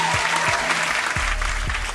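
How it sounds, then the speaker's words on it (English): Steady, dense applause fills a radio studio show, loud and continuous, with a low bass thump pulsing underneath throughout. "Get a round of applause for that one."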